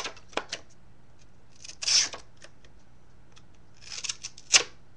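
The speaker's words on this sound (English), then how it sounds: "I'll do a quick cut test for you." A Gerber River Runner knife makes a quick cut test, with a few faint, brief snaps and snips separated by quiet pauses.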